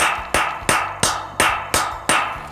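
An anchor is hammered into a concrete floor in seven sharp, evenly spaced metallic strikes, loud and close, each ringing briefly before the next blow.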